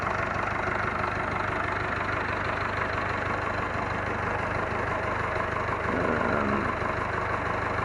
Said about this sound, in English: Just how well the engine's running, and there's no smoke at all.